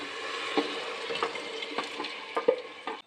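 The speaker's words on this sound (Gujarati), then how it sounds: "હવે આપણા વેજીટેબલ્સ સરસ રીતે તેલમાં ફ્રાય થઈ ગયા છે" Chopped vegetables and peanuts fry in hot oil for a Kathiyawadi khichdi, a soft continuous sizzle broken by a few sharp stirring clicks and scrapes of a spoon against the pan, close and fairly quiet.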